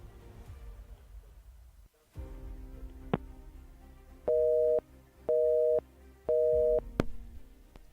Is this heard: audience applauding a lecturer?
no